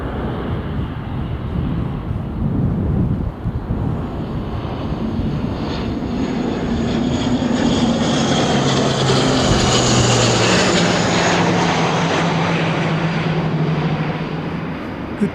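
A propeller airliner, flight 177, arrives from Palmerston North into Christchurch, its steady engine drone and airscrew hum swelling from moderate to loud as it nears, with strong wind noise throughout and no talk.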